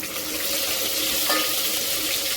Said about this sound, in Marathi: आपण आता चार पाच हिरव्या मिरच्या आणि अशा मधोमध कापून घेतल्या आहेत त्या परतून घ्यायच्या